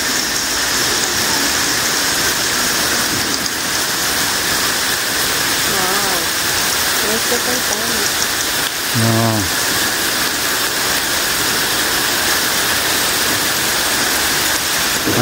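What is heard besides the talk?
strong river current in the Underground River after heavy rain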